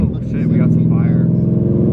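A 1000hp twin-turbo Ford Mustang pulling at quarter throttle: a loud, close, harmonic engine drone rising briefly then holding steady, heard from inside the car with excited voices over it.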